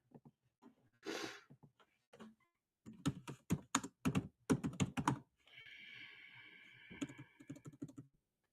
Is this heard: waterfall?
no